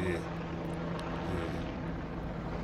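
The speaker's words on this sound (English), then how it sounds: "More and more helicopters." Steady, broadband rotor-and-engine roar of helicopters droning overhead, constant and moderately loud throughout.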